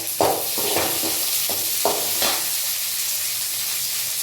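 Spices spluttering in hot oil for a vegetable pulao, a continuous loud sizzle broken by several sharp pops and crackles early on, close up with no talking.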